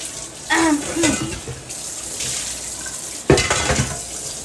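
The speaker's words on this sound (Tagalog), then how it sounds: "Mag-ano lang tayo ng tubig. Mag-init ang tubig." Water runs from a tap to be heated, a steady rushing hiss with louder splashing surges near the start and again about three seconds in, and a brief voice early on.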